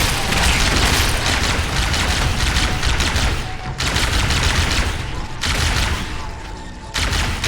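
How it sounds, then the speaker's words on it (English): Sustained rapid bursts of plasma rifle fire in the Halo video game, a dense, continuous crackling barrage broken by brief pauses, loud and close throughout. "These plasma rifles are actually doing pretty well."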